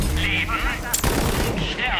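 Pistol shots in the looter-shooter Borderlands 3 crack out in a quick burst of sharp reports, loud and close, with game noise swirling behind them.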